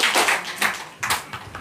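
A small audience claps hands briefly, with a few distinct bursts of claps in an uneven rhythm, fairly close and moderate in loudness.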